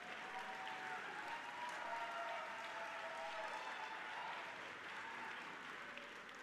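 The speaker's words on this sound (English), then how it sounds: "How about a round of applause for Tim?" Steady, dense audience applause fills a Developmental Disabilities Awareness Month kickoff event, sustained at an even level from start to finish with no speech over it.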